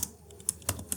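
Typing a prompt on a computer keyboard, a few quick close key clicks in an uneven rhythm over about a second, with a faint background hum and no voices.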